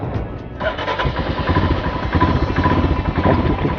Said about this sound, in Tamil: சரி, வண்டி ஸ்டார்ட் பண்ணலாமா?